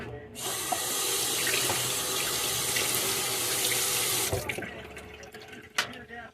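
Tap water runs steadily into a kitchen sink while something is washed, a loud continuous rush for about four seconds, then splashes and clatter as the flow stops.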